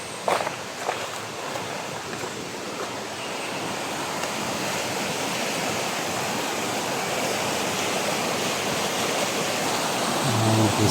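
Flowing water rushes steadily near an inlet leading to the sea, a broad continuous hiss that swells slightly toward the end, with a few scuffing footsteps early on.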